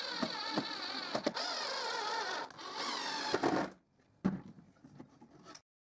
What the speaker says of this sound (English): And I screw it.